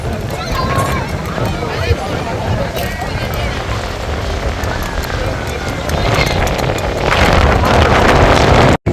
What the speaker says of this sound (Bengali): এই যে এখানে ঢেউ দিচ্ছে দেখেন